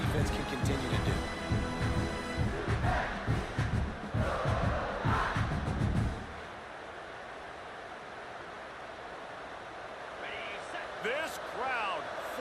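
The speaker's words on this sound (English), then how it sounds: "This crowd, full throat, splitting the eardrums" Football video game stadium crowd roaring full-throated, a loud dense wall of cheering for the first several seconds, then dropping to a quieter murmur with a few whistles near the end, commentary voices talking over it.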